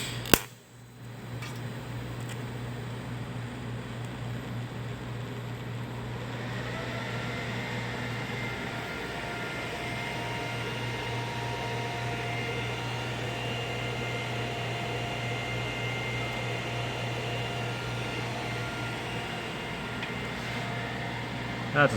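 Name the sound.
TIG welding a tack weld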